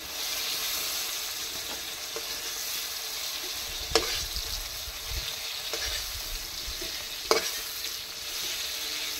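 Sliced ridge gourd fries in oil in a pan, giving a steady, quiet sizzle. A few sharp clinks of a spatula against the pan break in now and then.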